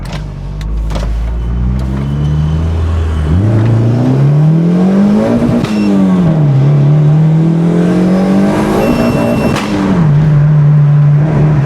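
Turbocharged car engine running through a chambered muffler exhaust, loud and close, revving up and down repeatedly with rising and falling engine tones and a continuous throaty drone between revs.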